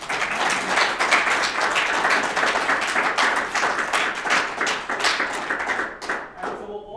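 Audience applause fills a university hall during a governor candidate's event, dense steady clapping for about six seconds before tapering off at the end, with no one speaking.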